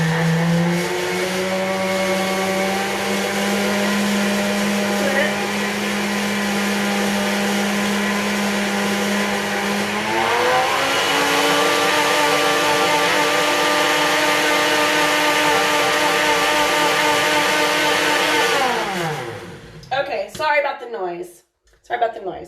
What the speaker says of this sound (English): I'm going to go ahead and blend this for the soup bowl.